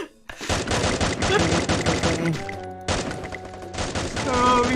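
Rapid automatic gunfire rattles in dense, sustained bursts in the shooter game Free Fire, loud and close, breaking off briefly before resuming, with a player talking excitedly over it.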